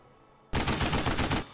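Rapid burst of automatic gunfire aimed at an alien in the strategy game Xenonauts, a sudden loud volley of closely spaced shots after a short quiet lead-in.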